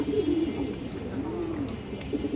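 A female black-necked pigeon coos, a low, repeated warbling murmur close at hand, fairly quiet and steady throughout.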